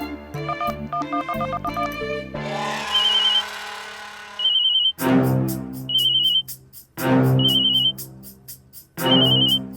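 A phone ringtone plays loudly and close by in repeated rings with short gaps between them, preceded by a brief electronic melody and sustained tones.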